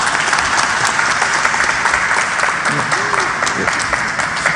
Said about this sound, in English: You're getting more applause than me.